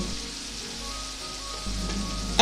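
Fried potatoes sizzle steadily in a pan as tomato paste goes in for a paneer and potato dalna, a continuous hiss with a slight rise near the end and no talking.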